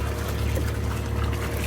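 A steady trickle of water from a slow leak at a marine boat engine's exhaust fitting splashes and dribbles nearby over a constant low engine-like hum.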